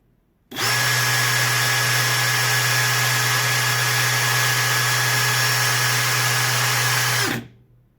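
A Parkside PPSBSA 20-Li A1 cordless impact drill runs unloaded in first gear. The steady, loud motor whine starts abruptly, holds constant for about seven seconds and then cuts off, with no talking.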